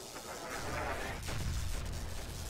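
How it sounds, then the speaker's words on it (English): Close explosions rumble and crash in the Stubbs the Zombie video game, a dense booming wash of blasts over a couple of seconds with no speech. "Those explosions are really close."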